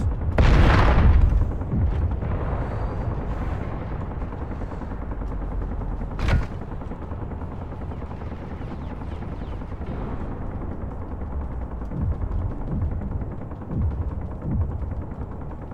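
Defense turrets firing in the video game Space Engineers: a loud opening burst of gunfire, then sustained rumbling fire with a sharp crack midway and scattered quieter shots toward the end, with no talk.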